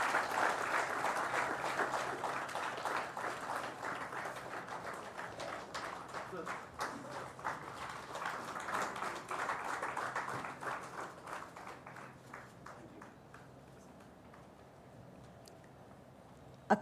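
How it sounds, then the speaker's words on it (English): A workshop audience claps together after a knowledge product launch on stage, a dense round of applause that holds steady for about ten seconds, then thins and fades out. "Let's give a big round of applause,"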